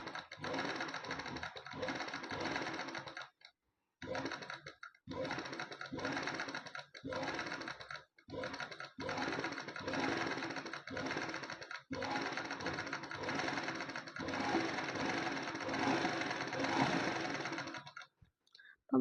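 A sewing machine runs in close, steady bursts of rapid stitching for straight-stitch embroidery, with brief pauses between runs as the fabric is moved slowly.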